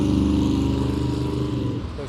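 A monster truck at Truckfest Newark idles nearby with a steady, loud engine drone and strong low harmonics. The pitch dips briefly toward the end.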